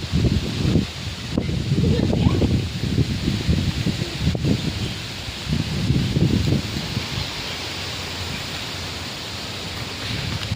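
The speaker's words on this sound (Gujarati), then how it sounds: "આજ પવન બહુ ચાલુ થઈ ગયો જુઓ ને" Strong wind gusting across an outdoor microphone, a loud rumbling buffet that surges in bursts through the first seven seconds, then settles into a steadier hiss.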